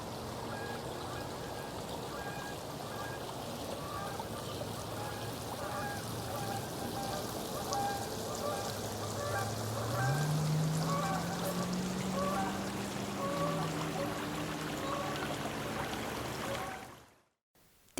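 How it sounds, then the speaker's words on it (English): Storm drain water from Collin Parkway pouring into Alum Creek, a steady rushing splash at moderate distance, with a faint honking call partway through and a voice talking over it before it cuts off. "This storm drain is draining water from Collin Parkway into Alum."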